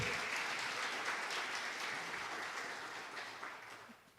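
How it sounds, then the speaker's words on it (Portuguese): Church congregation applauding during a sermon, a steady dense clapping that fills the whole stretch and tapers slightly toward the end, with no voices over it. "Você pode aplaudir Jesus?"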